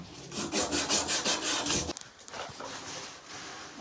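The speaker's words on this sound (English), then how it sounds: "And then I do my sandpaper." Sandpaper rubbed by hand on a pipe end during a quarter-turn angle valve install: a close, loud run of rhythmic back-and-forth scrubbing strokes for about two seconds, then quieter, scattered rubbing.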